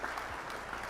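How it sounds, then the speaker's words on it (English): A round of applause on a Star Citizen livestream, steady dense clapping that sounds like a crowd, fairly faint and continuous for a brief moment. "I'm gonna give you guys a round of applause right now."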